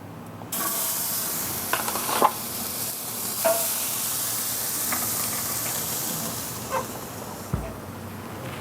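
Two New York strip steaks hit a hot Primo Kamado grill, bursting into a loud, sustained sear hiss that holds steady with a few faint clinks of tongs and grate.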